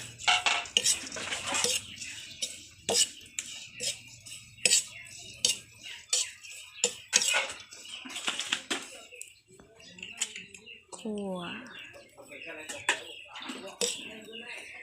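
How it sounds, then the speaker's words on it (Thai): Roasted shrimp and chili pounded with shrimp paste in a mortar for a traditional Thai chili paste: repeated sharp, uneven thuds and clacks close by, with a voice talking in between. "เราจะเอากุ้งกับพริกที่เราคั่วไว้ไปตำกับ กะปิที่เราเตรียมไว้นะคะ"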